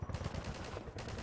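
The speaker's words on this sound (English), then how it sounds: "Who's shooting?" Rapid, faint gunfire rattles in the video game Half-Life 2, a short dense burst of shots fired close together in quick succession.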